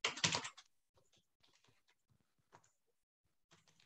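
Computer keyboard keys click in short irregular taps and small clusters after an initial louder rustle, close and quiet with gaps between strokes.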